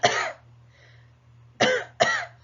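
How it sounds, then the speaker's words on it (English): A person demonstrates a COPD airway-clearance technique: one short cough, a brief quiet pause with a faint breath, then two quick mini coughs close together, near and clear. "So a little breath in and a mini cough 2 times following that."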